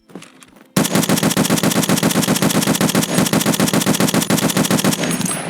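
An M1A rifle in Escape From Tarkov fires continuously on full auto. After a brief quiet start, a loud, rapid, evenly spaced stream of shots runs for nearly five seconds before stopping.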